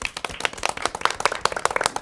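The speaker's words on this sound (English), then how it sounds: "Just want to thank you and give you a round of applause." A small audience at a school committee meeting claps for a retiring principal, a brief burst of distinct, fairly close hand claps with an uneven rhythm.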